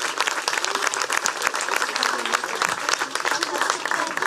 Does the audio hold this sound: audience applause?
yes